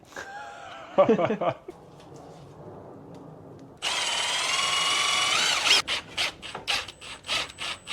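Power drill driving screws into a window frame, a loud sustained whirring burst followed by several short revving pulses as screws seat, with a brief clatter and a voice speaking earlier.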